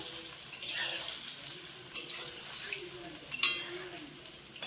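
Jackfruit and chicken pakoras deep-frying in very hot oil over a medium flame, a faint steady sizzle with occasional sharp clinks and scrapes of a utensil against the pan.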